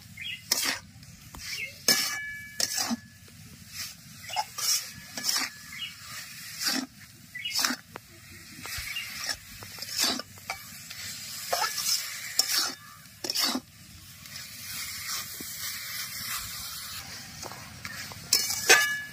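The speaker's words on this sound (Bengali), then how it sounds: "পুর তৈরি করার জন্য কড়ার মধ্যে গুড় দিয়ে দেব। কোড়া নারকেল দিয়ে দেব।" Jaggery and grated coconut being stirred in a wok (kadai) for a sweet filling, with repeated scraping strokes of a spatula at an irregular rhythm over a soft sizzle, close and alone without talk.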